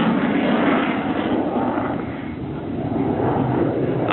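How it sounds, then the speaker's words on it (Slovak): A MiG-29 fighter with twin RD-33 engines roars at an airshow, a broad, steady jet rumble that swells and eases slightly as it passes, with no voices over it. "silu dvojice pohonných jednotiek RD-33. Ktoré umožňuje lietadlu MiG-29 predvádzať prvky vo vertikálnej rovine"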